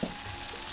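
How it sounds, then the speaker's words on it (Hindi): Oil sizzling around a chakki-flour roti cooking in a hot pan, a soft continuous frying crackle, close and quiet, with no voices. "मस्त उबला थे तेल के साइड साइड है, देख सकते हो तेल है की तरह सब साइड साइड है उबला थे"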